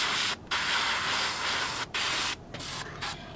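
An Iwata Revolution HP BR airbrush sprays paint onto paper in several loud, close bursts of hissing air, broken by short pauses between trigger pulls.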